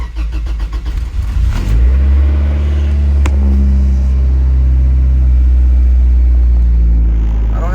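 A car with a manual-transmission swap and a newly installed C2spec wire harness cranks with the clutch pressed, catches and settles into a loud, steady idle rumble, heard up close.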